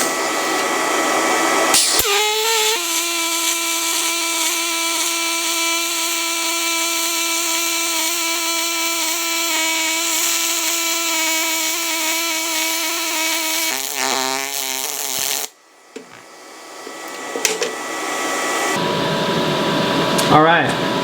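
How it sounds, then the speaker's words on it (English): A YesWelder YWM-211P pulse MIG welder running on quarter-inch aluminum gives a loud, steady buzzing hum with a sustained pitch for about thirteen seconds, then wavers and cuts off, leaving quieter room noise. "I'll show you how this thing welds with the MIG gun."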